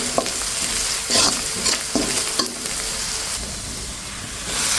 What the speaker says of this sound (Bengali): আর এখন আমি নেড়ে ছেড়ে মিশিয়ে নিচ্ছি।